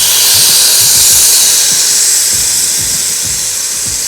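Loud, steady hiss of tandoori chicken skewers searing on a hot indoor grill, a continuous sizzle with faint repeated low clicks underneath.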